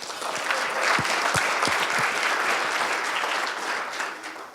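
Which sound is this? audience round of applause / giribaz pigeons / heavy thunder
audience round of applause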